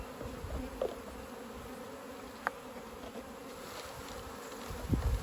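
Continuous hum of honey bees around an open hive under inspection, a moderately close drone with a few short sharp sounds of handling.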